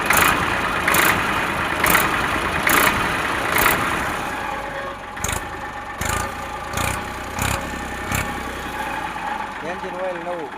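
A tractor's rebuilt diesel engine idles nearby with a steady, loud chugging drone and occasional stronger thumps, while someone talks over it.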